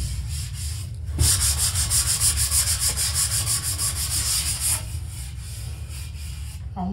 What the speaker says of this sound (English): See that how the sanding is a lot easier now?